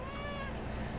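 A pet cat gives a single drawn-out meow, close and clear, its pitch sliding gently downward over about a second against a faint background hum.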